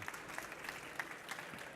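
Audience applause at a BETT 2018 education talk on 3D printing in classrooms, a soft, fairly distant patter of many hands with scattered sharper claps.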